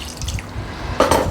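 A little water is poured into a cooking pot of raw fish curry. Faint drips and low bubbling are followed by a short, brighter splash of liquid near the end.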